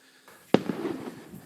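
Distant gunshot in the town of Kununurra, Australia: a single sharp crack followed by a short rumbling echo fading over about a second, heard alone over quiet outdoor background.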